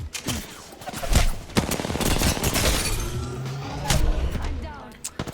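Heavy gunfire in Apex Legends, with sharp shots and rapid bursts, some louder impacts and thuds, close and intense across several seconds, under game voice lines and talk.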